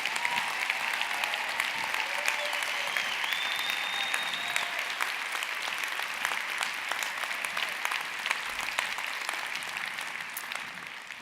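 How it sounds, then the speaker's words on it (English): Sustained applause from an audience at a company founder's event, a dense, steady wash of clapping with no breaks that fades slightly toward the end. "can we give a round of applause to Ashley and Leland and Danielle for sharing their stories?"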